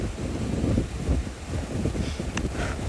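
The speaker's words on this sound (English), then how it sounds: "The wind did pick up a bit" Steady wind buffeting an outdoor microphone during an afternoon safari drive in South Africa, a continuous low rumbling roar with gusty swells and no speech.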